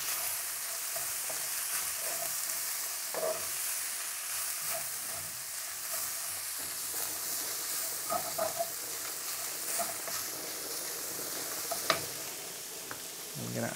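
Bean sprouts stir-frying in a hot wok for chicken chow mein give a steady, close sizzle with scraping stirs and occasional clacks, running continuously without talk.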